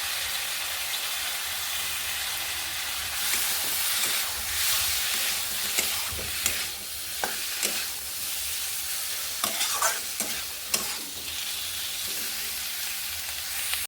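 Spices frying in oil with fried potato, pointed gourd and prawns, giving a steady close sizzle and hiss, broken by scattered clinks and scrapes of stirring that grow busier in the second half.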